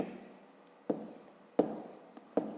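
A pen writes numbers by hand on paper while working a Grade 5 subtraction exercise. Four separate strokes start sharply and fade, close and quiet, with no talking.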